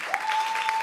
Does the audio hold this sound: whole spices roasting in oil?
no